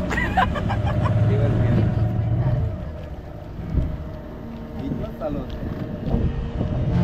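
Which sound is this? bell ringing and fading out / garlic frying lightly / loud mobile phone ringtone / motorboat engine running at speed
motorboat engine running at speed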